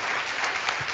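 Steady applause from a convention audience, a dense wash of clapping hands throughout with no pauses.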